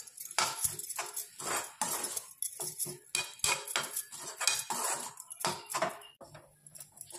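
Grated coconut roasts in ghee in a pan for coconut laddoos while a metal spatula stirs it, giving a busy stream of close scraping and clinking strokes in quick irregular rhythm.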